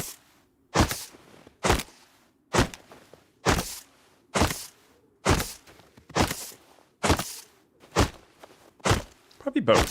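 Footsteps in the video game Rust: a steady, evenly spaced series of about ten heavy, crisp steps that are close and loud over a faint background hum.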